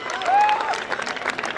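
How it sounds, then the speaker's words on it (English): Brief burst of crowd applause at an award ceremony after a dance performance, dense clapping from a large audience with a short voice over it. "Please have a huge round of applause for the team."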